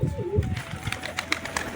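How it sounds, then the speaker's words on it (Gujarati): Several pigeons coo in low, soft bursts while pecking at scattered wheat grain nearby, with light rustling and fluttering around them. "બધા કબૂતર ખાવા માંડ્યા."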